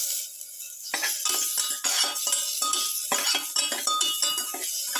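Tomato pieces sautéing with onion and garlic in a pan, heard as close, repeated clinks and scrapes of a utensil stirring against the pan over a soft background sizzle, with no voices.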